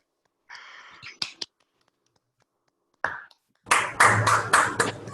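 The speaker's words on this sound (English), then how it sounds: "So all of us can please clap." Online seminar participants unmute and clap for the speaker: a few scattered, tinny claps and clicks early, then a short burst of several people clapping through laptop microphones near the end.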